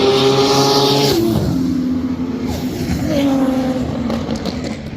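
Roll racing cars, a Lamborghini and a dark grey Falcon, accelerate hard down the lanes, engines roaring loud and near with rising gear-change sweeps, one shifting up, then a second surge building.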